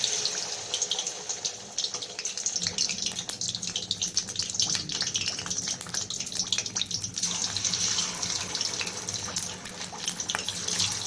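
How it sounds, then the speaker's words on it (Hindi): Fish frying in about half a litre of hot oil in a kadai gives a continuous, dense sizzling hiss that stays close and steady throughout. "अब इसमें हम मछली को फ्राई करेंगे।"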